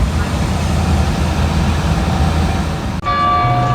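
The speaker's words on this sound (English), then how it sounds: "We have chimes." A steady rumbling din fills the first few seconds, then it cuts off and clear, ringing church chime tones sound out over a lower hum, in New Orleans.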